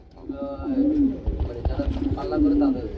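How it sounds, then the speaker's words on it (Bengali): Racer pigeons, a mated pair of cock and hen with leg tags, coo in two long rolling bursts at close range, one near the start and another toward the end, with shuffling and a brief knock between them. "চিক আর কালারের মধ্যে এক জোড়া আর রেসার কবুতর রয়েছে বন্ধুরা"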